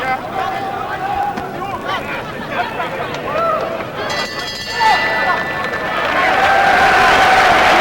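A boxing crowd at a light heavyweight title fight in Frankfurt roars and cheers steadily, loud and dense throughout, swelling near the end, with commentary talk running over it.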